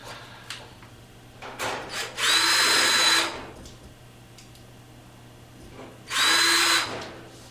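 Power drill driving screws into the back panel of a Whirlpool or Kenmore clothes dryer: two loud, whining bursts of about a second each, separated by quiet handling clicks and rustles.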